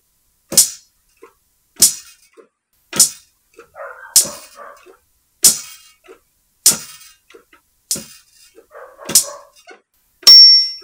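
Rainira, a pet dog outside, barks faintly and in the distance a couple of times amid a regular series of sharp, loud percussive hits roughly every second.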